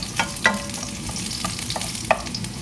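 Onions hit a hot pan and sizzle steadily while being stirred, with a few clicking scrapes of the utensil against the pan scattered through a continuous frying hiss.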